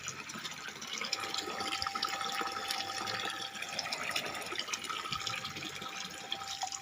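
Water driven by a solar-powered surface pump gushes steadily from a half-inch outlet pipe, a constant close splashing and trickling flow that continues on its own without talk.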